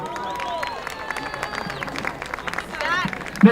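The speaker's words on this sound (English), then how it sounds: "Ladies and gentlemen, big round of applause for Cooper Franks." Audience applause at a school sports event, crowd clapping with light cheering and scattered voices, moderately loud and steady throughout, with a brief louder burst at the end.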